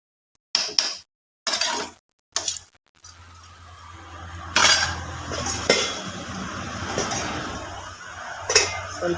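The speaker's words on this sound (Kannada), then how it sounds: "ಒಂದು ಸಲ ಮಗುಚಿ" Utensil scraping and clinking against a cooking pan as potatoes and onion are stirred, several sharp clatters early on followed by a continuous softer stirring and frying sizzle, close and moderately loud.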